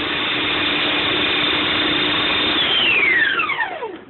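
A food processor grinds plain bread into crumbs, a steady loud motor whir with a grinding texture running continuously, then winding down in pitch as the blades slow to a stop near the end.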